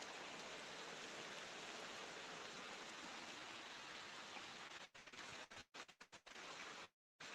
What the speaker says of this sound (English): We may have to postpone the show due to the rain.